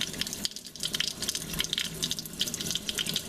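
Water runs steadily from a tap while dyed hair extensions are rinsed, a continuous splashing hiss with small irregular spatters, close and fairly quiet, with no talking.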